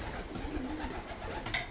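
Racing pigeons coo softly in a loft, a steady murmur of several birds close by with no one speaking.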